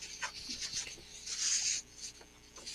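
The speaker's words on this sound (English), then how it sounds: "And Greg, I can hear some paper shuffling" Papers rustle and slide over a remote call during a legal talk program, a close scratchy shuffling that builds to a louder swish in the middle and then eases off.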